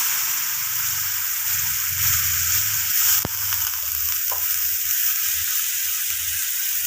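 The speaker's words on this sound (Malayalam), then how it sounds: "ഇതിലേക്ക് കുറച്ച് വിനാഗിരി ഒഴിച്ച് കൊടുക്കുക." Lemon pickle sizzles steadily in a pan throughout while vinegar is poured in and stirred, with a sharp click midway and low rumbling underneath.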